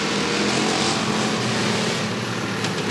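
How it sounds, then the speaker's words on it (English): Race car engines roar together as the field starts a figure 8 race at Rockford Speedway, a dense, steady, loud wall of engine noise. "Are you ready? Let's go figure eight racing"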